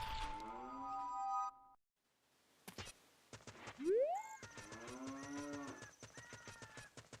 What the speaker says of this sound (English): there's a cow down in the valley here